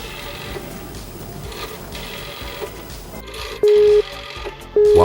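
A rotary phone dial spins back, and after it come steady electronic tone bursts in two separated pulses, like push-button dialing beeps heard over a background hum.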